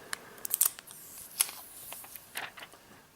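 Protective plastic film being peeled off a Motorola Droid Ultra smartphone, a few quick crinkly crackles and small ticks close by, short and fairly quiet with no voice.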